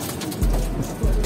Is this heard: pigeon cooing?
yes